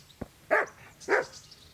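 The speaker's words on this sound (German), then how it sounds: "Mal abgesehen von den Hunden, die einen dann immer anbellen." In the video game Kingdom Come: Deliverance, a dog barks twice in quick succession, preceded by a short sharp click, fairly close and clear over a quiet background.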